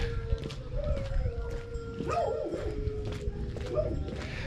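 Village dogs in rural Portugal bark at an unfamiliar voice, a few scattered yips and barks at middle distance over a steady outdoor hum and background noise.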